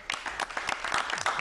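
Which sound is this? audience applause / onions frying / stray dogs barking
audience applause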